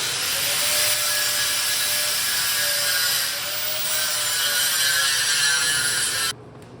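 Metal buggy dash tubing being smoothed at the edges with a power tool, a continuous loud high-pitched grinding hiss that holds steady, dips slightly midway and cuts off abruptly near the end.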